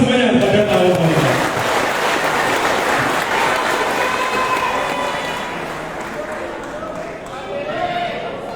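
About two thousand party members applaud at a political rally in a hall, a loud, sustained crowd clapping that slowly eases off, with voices mixed in and a faint announcer-like voice early on.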